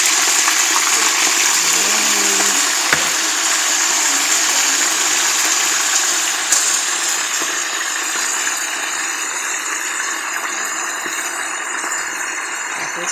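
Hot water pours steadily and loudly into a cooking pot holding meat, a continuous rushing splash that softens slightly toward the end.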